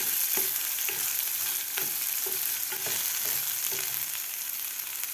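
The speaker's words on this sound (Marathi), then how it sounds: "यामध्ये घालायची आपल्याला मोड आलेली मटकी थोडीशी आपल्याला हलवून घ्यायची आहे" Sprouted moth beans fry in hot oil in a pan while being stirred, a close continuous sizzle broken by regular scraping strokes of the spoon, with no voices.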